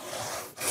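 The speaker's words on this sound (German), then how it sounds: "im Prinzip wird die Säge ja leer hochgezogen und mit der Spanabnahme nach unten gezogen" Large two-person hand saw drawn down through a tree trunk to cut boards in traditional woodworking, a steady rasping, grinding stroke of teeth in wood that briefly pauses near the end before the next pull resumes.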